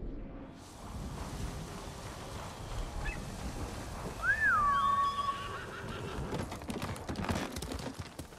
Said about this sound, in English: I kind of prefer riding my horse to wherever